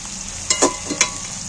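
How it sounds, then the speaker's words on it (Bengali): Onions, tomatoes and green chillies fried in oil and stirred, a soft background sizzle broken by a few short scraping clinks of the spoon, close and brief. "সবগুলোকে আমি একটু তেলের মধ্যে নেড়ে চেড়ে একটু হালকা করে ভেজে নেব"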